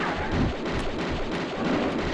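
Steady rumbling weapon fire from Tomb Raider II on PC, a dense continuous barrage of shots filling the whole stretch at an even loudness with no talk over it.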